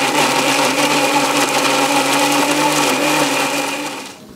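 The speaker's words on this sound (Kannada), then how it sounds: "ಈಗ ಎಲ್ಲವನ್ನು ಕೂಡ ಮಿಕ್ಸಿ ಜಾರಿನಲ್ಲಿ ಹಾಕಿ ರುಬ್ಬಿಕೊಳ್ಳುವಂಥದ್ದು" Mixer grinder whirring at full speed as it grinds ripe jackfruit pulp without water, a loud, steady, close motor drone that winds down at the end.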